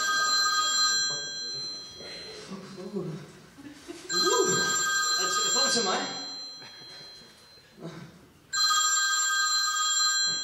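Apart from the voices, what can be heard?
telephone ringing on an outgoing call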